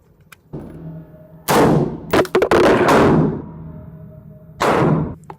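Black Rain Ordnance Fallout 15 rifle fired at an outdoor range with a bipod, a few loud, sharp reports with booming tails, spaced irregularly, including a quick cluster of shots in the middle.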